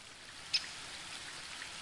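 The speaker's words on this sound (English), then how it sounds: "The waterfall and I have been neighbours for so long that I don't really hear it anymore." A waterfall in the video game Unwritten Tales 2 gives a steady, soft rushing wash of falling water that stays even throughout, with one brief faint tick near the start.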